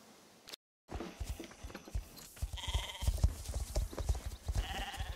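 Sheep bleating in the horse-riding video game Star Stable, with several short bleats and soft hoof clip-clops repeating over a busy game soundscape, after a brief dropout at the start.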